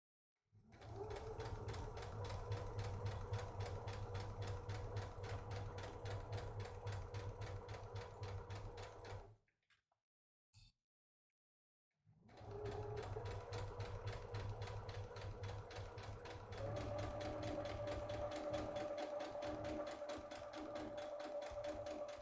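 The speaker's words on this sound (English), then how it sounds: "I'm going to sew over the edge of the pocket and backstitch" A sewing machine stitches a fabric drawstring project bag, running in a fast, even mechanical hum close by, pausing briefly in the middle before resuming at a slightly higher pitch.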